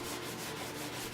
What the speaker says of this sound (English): Sanding with wet dry paper and 220 grit is your final preparation before varnishing